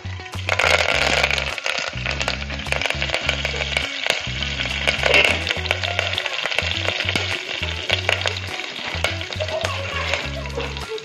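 Cumin, cloves, black pepper, cinnamon, bay leaves, green chilli and curry leaves fry loudly in hot oil for veg pea pulao, a dense crackling sizzle with sharp pops throughout.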